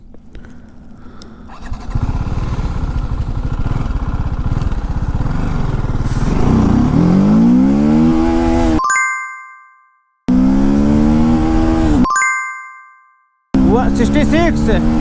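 A TVS Apache RTR310 motorcycle, making about 26 bhp, pulls hard through its gears on an urban road. The engine note climbs in steady sweeps, then cuts off sharply at each shift. The note falls to near silence before the next climb starts loud and close.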